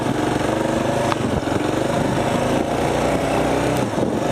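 A Kawasaki KLR motorcycle engine drones steadily and loudly up close as the bike pulls away on a mountain road, its low rumble holding constant throughout.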